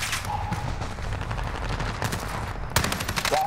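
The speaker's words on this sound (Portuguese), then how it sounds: "Estão atirando em mim!" Rapid bursts of video game gunfire aimed at the player ring out loud and close, a dense rattling fusillade that pauses briefly and then resumes even harder near the end.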